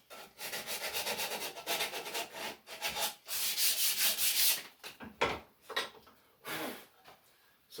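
Sandpaper is rubbed by hand around the bottom edge of a wooden shaving horse part, giving close, raspy back-and-forth strokes in bursts, with short pauses between them.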